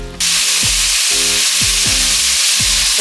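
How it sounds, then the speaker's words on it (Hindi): Half a kilo of chicken with garlic ginger paste frying in hot oil for a chicken karela dish, a loud steady sizzle with rhythmic scraping strokes of stirring repeating every half second or so. "तकरीबन 3 से 4 मिनट हो गए हैं मुझे चिकन भूनते हुए।"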